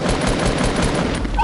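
Rapid automatic gunfire rattles in a Fortnite match, a dense close burst of shots running for about a second and a half.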